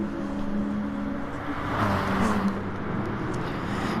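A Porsche Gr.3 race car engine in GT Sport drones steadily through a corner alongside other cars, with a sustained mid-level roar that swells slightly midway.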